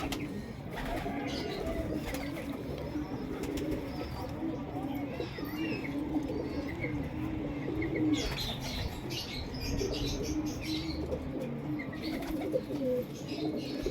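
Pigeons coo softly and repeatedly in the background, with occasional chirps and wing flutters amid general ambient noise.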